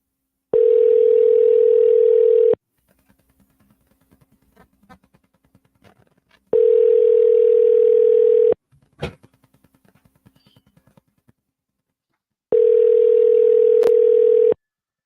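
A telephone line gives a steady dial tone in three long bursts, each about two seconds, separated by quiet stretches of faint clicks and handling noise.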